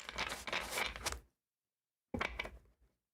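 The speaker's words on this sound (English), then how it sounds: "let's shuffle these cards here." Tarot cards being shuffled by hand, a dense burst of riffling flutters for about a second, a pause of silence, then a shorter second riffle, close and quiet.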